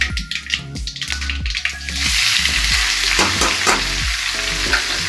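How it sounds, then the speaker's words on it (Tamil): Onions sauté in hot oil for a duck gravy, the sizzle jumping loud about halfway through and holding steady while a spoon stirs and scrapes the pan in the foreground. "வெங்காயம் போட்டு வதக்கலாம்"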